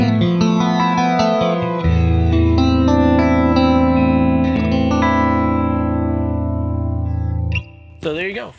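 A 2015 StoneTone Rock Block Strat-style electric guitar on the position 2 pickup setting gives a funky, offset clean tone, with a chord strummed and left ringing and sustaining for several seconds before a brief scrape at the end.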